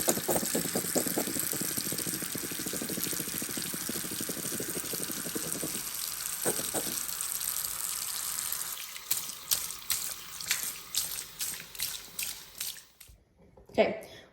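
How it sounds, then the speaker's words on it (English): Tap water runs steadily into a household sink and down the drain as fluid is poured away. A continuous rushing hiss fades after several seconds into scattered drips and splashes. "I'm gonna turn on the water and dump it down the drain."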